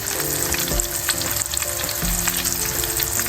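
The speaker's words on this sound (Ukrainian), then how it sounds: "перекладаємо її, переворачуємо і готуємо, смажимо до готовності" Steady, crackling sizzle of catfish roe frying in a pan, loud and close, with a few soft clanks of a utensil stirring partway through.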